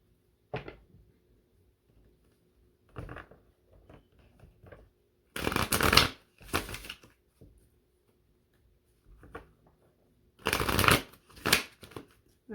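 Rider Waite tarot deck being shuffled by hand in a quiet room, with short papery riffles and card flicks scattered between several longer, louder shuffling bursts.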